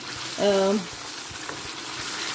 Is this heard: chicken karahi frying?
yes